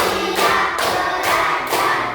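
Rhythmic group hand clapping in a classroom, several broad, loud bursts of claps in a steady pattern.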